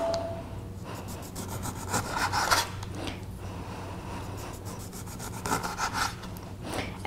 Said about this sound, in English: So just cut really thin slices. Again, the joys of cutting with a sharp knife.